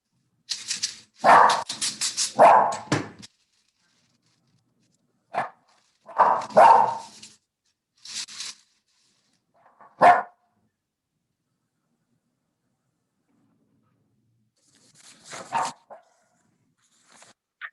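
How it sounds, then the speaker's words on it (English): A dog barks in several short bursts, some quick doubled barks, with long silent gaps between them, fairly close. "who are you barking at?"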